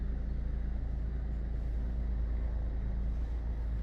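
A car creeps slowly forward with the wheels turned fully right during parallel parking, its engine a steady low hum and rumble throughout, with no talk.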